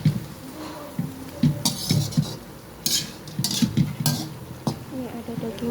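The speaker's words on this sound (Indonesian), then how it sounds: "Ini ada daging kambing dan ini goreng bawang guys untuk makan bakso nanti ya." Goat meat cooks and onions fry in a pan as a utensil repeatedly scrapes and clinks against the metal, with rhythmic stirring and soft sizzle under occasional nearby voices.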